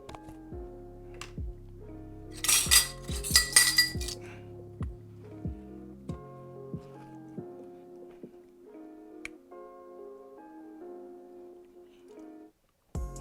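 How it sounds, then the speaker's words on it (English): A utensil clinks and taps against the inner pot of an Instant Pot Duo Crisp while scooping out spaghetti: a quiet series of light metallic clicks, with a brief burst of brighter clinks early on, then sparse taps. "Let me go ahead and scoop it out."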